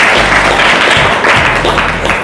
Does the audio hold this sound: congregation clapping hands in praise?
yes